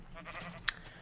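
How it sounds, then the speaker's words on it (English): A short, thin sheep bleat from the Minecraft video game sounds once, mid-level, over a low steady background hum. "Wait a second, we got sheep down here."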